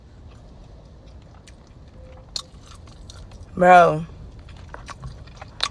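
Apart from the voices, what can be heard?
eating butter chicken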